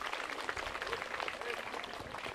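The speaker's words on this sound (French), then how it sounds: "Je dis encore une fois, applaudissez pour cette association-là." An audience applauding a diaspora association at a school computer donation ceremony in Gueoul, a steady patter of many hands clapping with speech mixed in.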